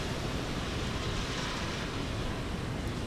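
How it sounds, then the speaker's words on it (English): Ocean waves wash onto a beach as a faint, steady broadband rush, distant and even in level, with no voices over it. "hear the ocean waves crush on the beach"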